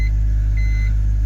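A BMW 330ci engine idles steadily after starting, a continuous low mid-range rumble close by with faint high electronic beeping tones, no talk.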